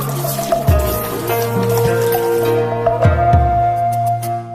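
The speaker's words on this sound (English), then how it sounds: "Here one takes a ladle, fills it with fresh water, and then rinses both hands." Fresh water from a wooden ladle splashes and trickles over hands at a Japanese shrine purification fountain, with close, repeated pours and drips over a steady tonal background.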